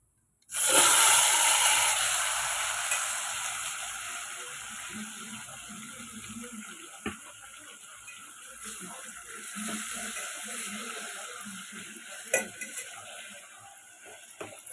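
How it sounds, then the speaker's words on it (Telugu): Broad bean pieces drop into a hot pan and fry with a loud initial hiss that gradually settles into a steady sizzle, with occasional clinks of a spoon stirring against the pan and no talking. "ఇప్పుడు చిక్కుడుకాయ ముక్కలు వేసుకుందాం"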